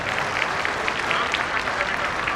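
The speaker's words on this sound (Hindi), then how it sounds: "एक बार आपकी तालियां उठे" Audience at a Hindi kavi sammelan poetry recital breaks into steady applause, a dense wash of clapping from a large crowd with no voices over it.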